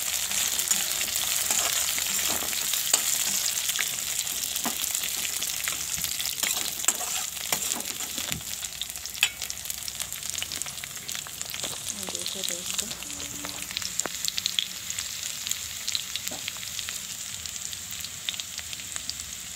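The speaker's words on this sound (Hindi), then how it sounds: "अब इसमें बड़ी डाल दूँगी मैं। अब इसे भी भूनूँगी इसमें" Badi, dried lentil dumplings, fry in oil in a pan with a steady loud sizzle, while a spoon scrapes and taps against the pan now and then, heard close up throughout.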